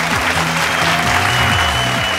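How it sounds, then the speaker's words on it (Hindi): Loud, dense applause from the audience of a Bhojpuri singing reality show, steady clapping throughout a short burst, with faint musical tones underneath. "जोरदार ताली।"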